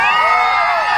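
A large crowd cheers and whoops loudly at an outdoor kite festival concert in Hubli, a sustained dense roar of many voices.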